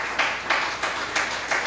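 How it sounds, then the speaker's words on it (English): A church congregation claps hands together in a steady rhythmic beat, five soft, evenly spaced claps over a continuous room wash, with no words spoken. "Shall we clap our hands to Jesus?"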